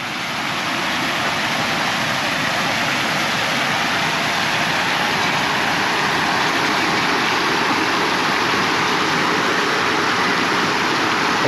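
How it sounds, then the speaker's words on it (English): Running water in Sa Riera Park in Palma de Mallorca makes a steady, loud, unbroken rush that fills the whole stretch with no voices. "there's another sense, the sound of the running water"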